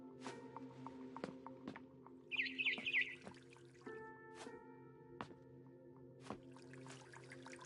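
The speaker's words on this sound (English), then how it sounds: "It was a barn swallow going back to her nest" A short burst of high, quick barn swallow chirps in a video game rises over soft ambient hum and scattered clicking footsteps.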